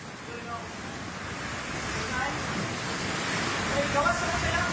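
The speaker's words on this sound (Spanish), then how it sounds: "El fuerte movimiento telúrico formó prácticamente olas en esta piscina." Swimming pool water sloshing into waves during a magnitude 6.8 earthquake on Mindanao island in the southern Philippines: a continuous rushing wash that slowly builds in loudness.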